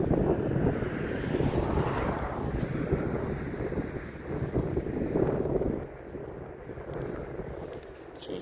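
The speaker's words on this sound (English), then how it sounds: "Ooh, that wind is blowing on that tower, though." Cold wind blows around a metal tower on an outdoor walk in Stockbridge, Georgia, producing a continuous, loud, low roaring rush with gusts that swell and ease, heavy buffeting dominating throughout.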